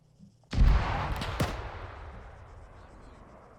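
A single heavy artillery blast in the Arma 3 WWII battle booms close and loud, followed by a sharp secondary crack and a long rolling decay into quiet.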